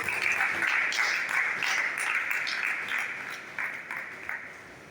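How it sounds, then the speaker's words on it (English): Audience applause for a guest speaker at a university lecture on leadership and student associations, a steady wash of clapping that slowly thins and fades toward the end. "A round of applause for this."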